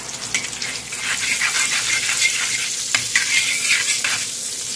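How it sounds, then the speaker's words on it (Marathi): A spoonful each of oil and butter heat on a tawa over a low flame, giving a close, continuous crackling sizzle with small pops and spits throughout. "तव्यामध्ये टाकून घेते 1 चमच तेल आणि 1 चमच बटर।"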